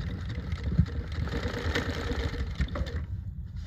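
A New-Tech GC-0303 sewing machine runs with a steady, low motor hum that stays close and even throughout, with one faint knock near the start and no talking.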